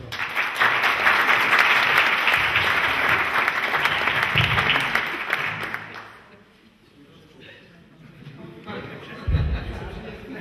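An audience applauds after a public debate, loud dense clapping for about six seconds, then fading into quieter room noise and murmuring voices.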